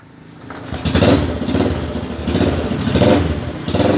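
A Honda Supra 125 underbone motorcycle with a gear fault idles and revs up during a gear test, its engine rising from quiet into repeated loud revving surges with mechanical clatter, up close.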